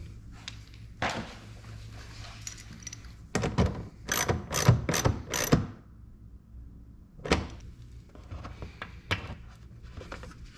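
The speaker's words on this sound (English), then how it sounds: "You want to be careful not to over tighten these because it's literally just thick threaded screws going into plastic" A ratchet drives thick threaded screws into plastic while fitting Rally Armor mud flaps on a 2022 Subaru Forester Wilderness, heard as several close bursts of rapid clicking separated by pauses and softer handling noises.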